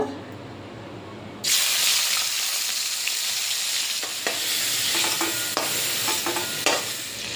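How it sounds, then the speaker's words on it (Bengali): Prawns drop into hot oil left over from frying pointed gourd and burst into a loud, sudden sizzle that holds steady, with scattered sharper crackles and spatters. "এবার পটল ভাজার তেলের মধ্যেই চিংড়ি মাছ ভেজে নেব।"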